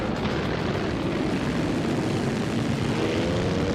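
A vintage 1937 Alfa Romeo 12-cylinder race car in a racing game, its engine a steady, dense roar that holds loud and constant throughout with no pauses.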